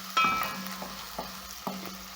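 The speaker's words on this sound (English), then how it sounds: "That is what I'm going to be frying my onions with." White onions frying in rendered beef fat with meat bits in a pan: a steady sizzling hiss broken by a few soft stirring scrapes, close and moderately quiet.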